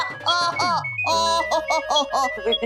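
A phone ringtone plays a bright electronic melody of quick chiming notes, loud and close, with a sliding tone near the start.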